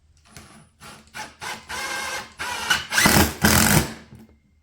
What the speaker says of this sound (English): we're gonna go ahead and drill 3 holes here